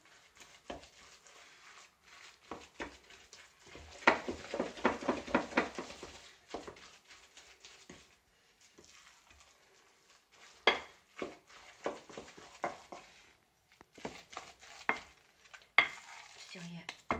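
Potato pancake batter with a little cottage cheese being stirred in a bowl, with a spoon scraping and knocking against the sides in bursts of clinks and wet mixing, close and moderately loud with short pauses between.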